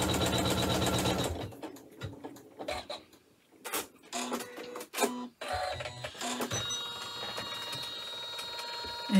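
A sewing machine stitches a zipper bag in bursts. A dense run of needle clatter comes first, then short separate stitching spurts, then a steady hum of sewing that runs to the end, close and clear.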